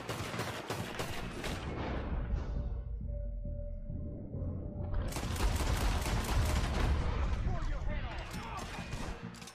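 Rapid pistol gunfire in a Red Dead Redemption 2 shootout, dense volleys of loud close shots with a brief lull in the middle before another heavy burst.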